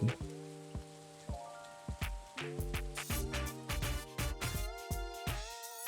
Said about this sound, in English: I enjoyed the last few drops of green rain, ending the day as it began.